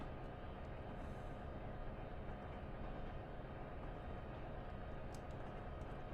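A Boston & Albany Berkshire steam locomotive in a train video game gives a continuous, even, loud rumble of running machinery, steady throughout with no talk.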